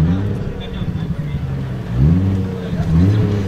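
A modified Nissan Skyline R34 engine rumbles low, then rises in two quick revving surges, loud and close, with people talking over the sound.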